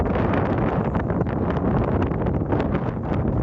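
Gusty wind buffeting a microphone outdoors near a viewing tower, a continuous loud rumbling roar with no one speaking.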